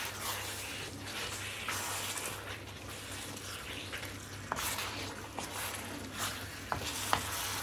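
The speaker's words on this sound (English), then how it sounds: "Give this another quick mix to make sure it's evenly distributed" Chicken dhansak curry with kasuri methi being stirred in a pan, a steady soft scraping and mixing over a continuous low sizzle, with a few sharper clicks of the spoon against the pan near the end.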